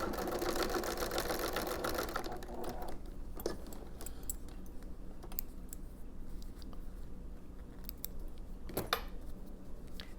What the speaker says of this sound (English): And I'm going to stitch across.